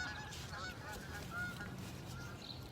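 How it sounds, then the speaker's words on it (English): A flock of geese honks repeatedly while landing near a farm field during a harvest ride-along, a busy overlapping chorus of calls at moderate distance with no talk. "A flock of geese landing next door."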